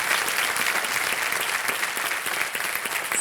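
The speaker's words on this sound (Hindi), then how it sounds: "एक बार जोरदार तालियां फिर हो जाएं" A studio audience at the KBC Season 14 quiz show applauds: dense, even clapping from many hands that holds steady throughout without a break.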